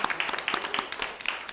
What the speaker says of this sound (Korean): 다시 한번 박수로서 힘 있게 용기를 주셨으면 좋겠습니다.